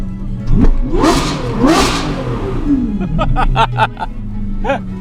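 A Lamborghini Revuelto engine revs hard twice in quick bursts, then settles into a rumbling idle with brief voices and clatter nearby.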